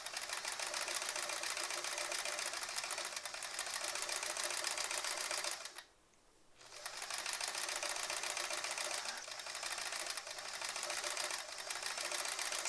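Sewing machine stitching in free motion quilting, a steady fast mechanical whir that runs continuously, pauses briefly once, then resumes, close and alone without talk.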